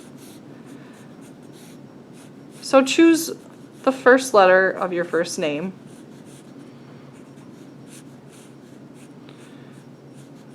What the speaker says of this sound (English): I'm going to start with the letter A, and I'm going to use a pencil first.